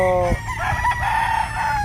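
A two-year-old fighting rooster crows loud and close in one drawn-out call, its harsh voice sustained across nearly two seconds with other faint farmyard noise beneath.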